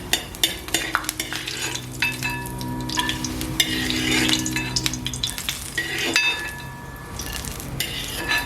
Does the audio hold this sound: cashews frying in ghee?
yes